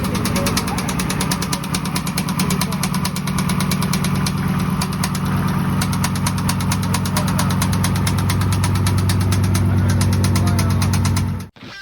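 A Dodge Charger with a Hemi V8 runs as a race entry at a Road Atlanta endurance event, its loud, steady low engine rumble close and continuous for about eleven seconds before cutting off abruptly at the end.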